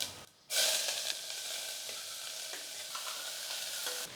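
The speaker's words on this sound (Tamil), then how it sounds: "இப்போ வெங்காயம் போட்டுக்கலாங்க." Chopped onions hit hot oil in a pressure cooker already holding cinnamon, bay leaf and fennel seeds, and a bright, steady sizzle starts after a brief quiet, with occasional stirring clicks.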